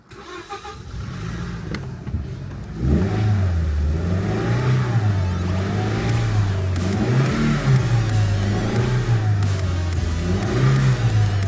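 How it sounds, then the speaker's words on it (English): A car engine that had trouble starting catches and runs rough, revving unevenly under throttle in repeated surges after a short cranking start; loud and close, with no speech. "Even after trying to tick it over a few times, it didn't want to start"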